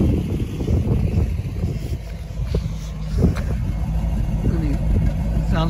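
A completely original 1966 Plymouth Barracuda Formula S engine idles with a steady low rumble, heard nearby and mixed with wind noise on the microphone.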